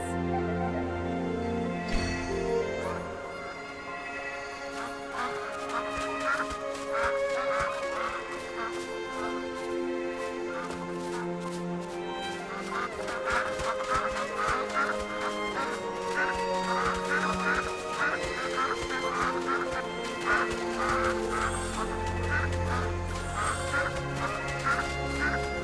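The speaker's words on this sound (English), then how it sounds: "But how did we end up herding ducks?" Ducks quack and honk while being herded in the AFK Journey video game, a continuous busy chorus of calls layered over steady game music throughout, moderately loud.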